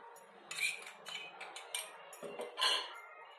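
A spoon scraping and clinking against a bowl while spices for jonna pendi vadiyalu, including red chilli flakes and green chilli paste, are mixed; quiet, close, irregular clatters with no talking.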